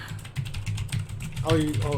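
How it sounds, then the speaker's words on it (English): Rapid clicky keystrokes on a Razer BlackWidow mechanical keyboard with green switches rattle out close and loud in an uneven rhythm, with a person speaking over the typing toward the end. "it's a mechanical keyboard, so it's clickety clackety"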